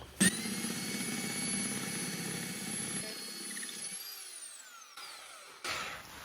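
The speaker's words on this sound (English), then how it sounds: "let's try to drill a little hole here" A power drill whines steadily at high pitch for several seconds while boring a small hole, then winds down as the trigger is released; a few clicks and handling noises follow.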